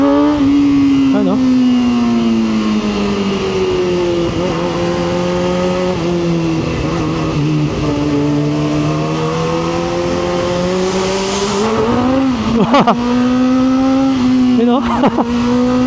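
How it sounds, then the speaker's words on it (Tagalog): A Kawasaki ZX4RR motorcycle engine screams at high revs in second gear while the rear wheel spins, a loud sustained whine rising and falling, with a rider talking briefly over it. "Nagwi-wheel spin na siya. Second gear."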